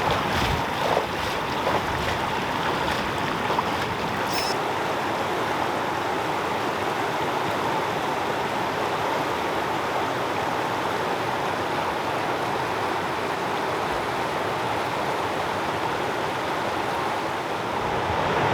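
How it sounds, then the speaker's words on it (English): Glacier meltwater river rushing out from beneath a glacier, a steady, broad roar of flowing water with wind across the microphone, continuous and loud throughout with no voices. "Looks like there's like a river flowing out of it from underneath the glacier."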